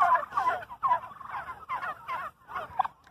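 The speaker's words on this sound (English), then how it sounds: "These guys are just turkey. They're just turkey meat." Several turkeys gobble nearby in repeated warbling bursts, a loose chorus of rapid, bubbling calls that rise and fall over a few seconds, heard on their own without talking.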